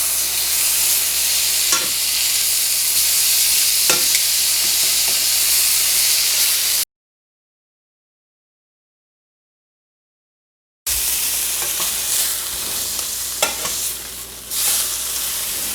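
Steak sears hard in a hot skillet, a loud continuous sizzle and hiss with occasional spatter pops, broken by a few seconds of total silence before the searing resumes.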